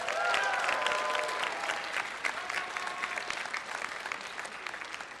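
Sustained audience applause fills a convention writers panel at Las Pegasus Unicon 2013, a dense steady wash of clapping hands from a large crowd that holds loud throughout and thins only slightly toward the end.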